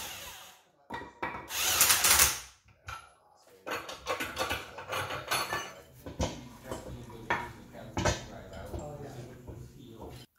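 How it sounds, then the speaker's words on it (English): An impact gun pressing Energy Suspension bushings into Acura Integra trailing arms, giving loud bursts of whirring and rattling hammering with metallic clanks between them, close by, and a voice speaking in parts. "Now use an impact gun and the bushing will press right in,"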